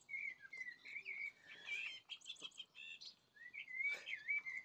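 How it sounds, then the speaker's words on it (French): Small birds sing outdoors in a series of bright, warbling whistled phrases with short trills and chirps, fairly faint and distant, rising and falling with brief gaps between phrases. "Les oiseaux, comment ils chantent."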